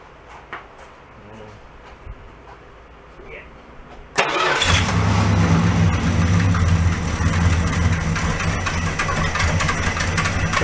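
A 1967 Plymouth convertible, just out of storage with a leaking exhaust, cranks and catches after quiet handling noises, then settles into a loud, steady rumbling idle with voices talking over it.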